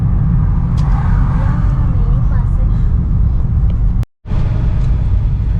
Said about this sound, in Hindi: जैसे आप देख रहे हैं इस वक्त ट्रैफिक जैम है